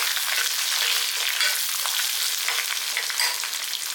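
Chopped garlic cloves, dried red chillies and green chillies frying in hot oil in a pan give a loud, continuous crackling sizzle close up.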